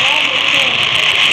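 Heavy rain falls in a dense, continuous hiss with no breaks, loud and close for the whole short stretch.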